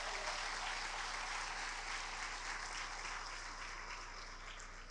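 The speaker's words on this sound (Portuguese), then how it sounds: "Dá um grande aplauso para Jesus mais uma vez." Steady applause from an audience at a church family conference, a dense continuous patter that fades slightly toward the end, with no voices over it.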